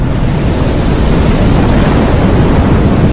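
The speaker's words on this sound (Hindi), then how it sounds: "अचानक समुद्र तेज हो गया और एक मैसिव लहर सीधा इस रेस्टोरेंट की तरफ आ गई।" A massive sea wave surges from a suddenly rough sea into a seaside restaurant, a loud, continuous roaring rush of water and wind-like noise that holds steady throughout with no voices.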